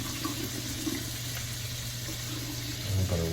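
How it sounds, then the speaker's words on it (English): A plate is rinsed under a running kitchen tap, a steady close rush of water that stays even throughout and swells slightly at the very end, with no one speaking. "I'm gonna wash this plate off"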